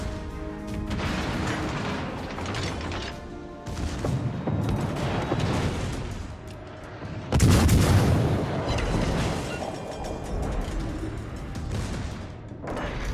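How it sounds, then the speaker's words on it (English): Naval guns fire from warships in the World of Warships Legends video game, featuring the cruiser Tallinn: repeated heavy booms and rumbling salvos, with one especially loud blast partway through. "Concentrate fire on the enemy warship."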